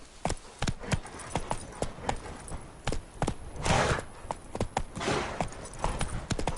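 The horse Roach's hooves clip-clop in The Witcher 3, a steady walking rhythm of crisp, close hoofbeats, with a brief swell of wind or breath partway through.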